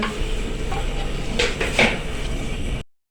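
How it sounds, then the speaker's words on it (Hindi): Cooked chana pulao rice is served out of the pot into a dish with a few scraping and clinking spoon-on-pan sounds over a faint room hum, ending in sudden silence. "अभी हमने एक डिश ले ली है, इसमें हम चावल को निकालेंगे"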